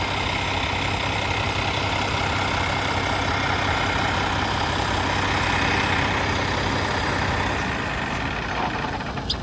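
A hydrogen-equipped semi truck's diesel engine idles steadily and loudly nearby with a low, constant rumble, easing slightly toward the end without cutting off completely.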